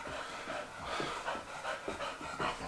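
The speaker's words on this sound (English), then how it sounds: "And this is the dog panting, by the way." Quick, rhythmic breathy panting from a dog, steady and close, with soft airy bursts repeating throughout and no talking.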